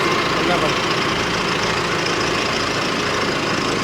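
A new four-speed Mahindra Ultra 605 tractor engine runs steadily close by, a constant low rumbling drone that holds at even loudness for the whole stretch with no talking.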